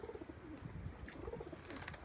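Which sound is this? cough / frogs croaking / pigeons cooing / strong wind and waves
pigeons cooing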